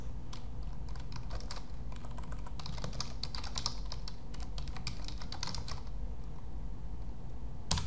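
Keys on a computer keyboard are tapped to type in a server name, a brisk irregular clatter of close, crisp clicks that thins out toward the end with one final louder stroke, over a faint low hum.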